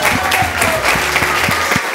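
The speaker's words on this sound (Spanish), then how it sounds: "Un aplauso para ella." Studio audience applause for a singer on a TV show, a full, steady clapping crowd with a low rhythmic beat pulsing underneath, loud and continuous.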